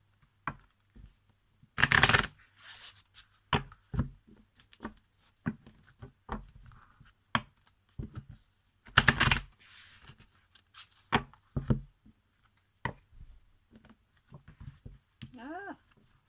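Oversized tarot cards are shuffled in two loud, brief riffling bursts. A person talks on and off around them, with light card handling in between.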